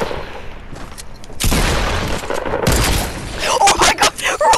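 Video game gunfire: loud, repeated shots and booms in an uneven burst, with a short dense volley in the middle and scattered sharp hits toward the end.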